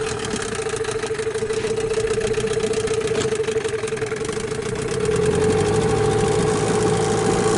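A Mikatsu 9.8 outboard boat motor runs during its second day of break-in with a loud, steady, buzzing drone and rapid pulsing. The engine note deepens and grows slightly louder partway through.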